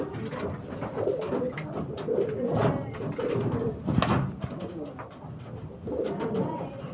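Pigeons kept for sale at a breeder's home coo close by in a steady, overlapping stream of soft, throaty calls with brief swells, and no one speaks.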